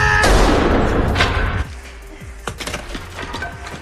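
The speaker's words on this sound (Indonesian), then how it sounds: "sampai akhirnya Chino kabur setelah Paul menembak ke arahnya" Gunfire and cracking impacts in a film fight scene where a man fires toward an attacker armed with a crowbar, a loud burst of shots and crashes at first, then sharp scattered hits and clatter at lower level.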